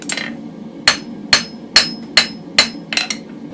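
A hammer strikes a hot steel barbecue toasting fork on an anvil during hand forging, seven sharp metallic blows at a steady rhythm, with a faint ringing after each hit.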